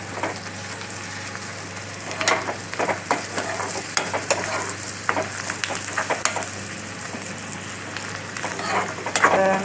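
Garlic frying and sizzling in a pan for a Tamil garlic vattha kuzhambu, with steady crackling and repeated stirring scrapes close by, no talking.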